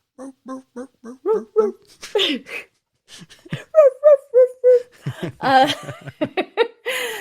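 A dog from a TV episode's opening credits gives a series of high, short whimpering yips and whines in quick uneven clusters, close and clear against otherwise quiet surroundings.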